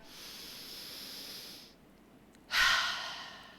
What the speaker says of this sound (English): So just stop, take a deep breath.